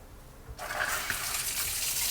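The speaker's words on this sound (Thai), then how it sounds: "ลองเปิดน้ำนะครับ" Water rushes from a freshly repaired old square-head faucet, starting abruptly after a quiet half-second and then pouring in a steady, close, hissing stream to the end.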